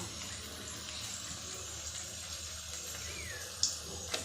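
Mini moglai, an egg-filled flatbread, fries in hot oil with a soft, steady sizzle, fairly faint, with a couple of small pops near the end.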